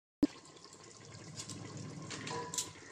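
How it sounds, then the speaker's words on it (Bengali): Kewra water pours from a small cap into a pot of meat biryani, a short liquid trickle that starts abruptly and runs steadily for a few seconds, close and fairly quiet, with no talk. "এবার এতে একটুখানি কেওড়া জল,"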